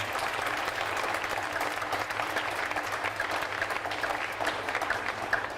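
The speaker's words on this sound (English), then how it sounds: "Let's give them a round of applause as well." Crowd applause at the 2021 Iowa State Fair opening ceremony outdoors, a continuous even wash of many hands clapping at moderate distance, steady for several seconds with a low background hum.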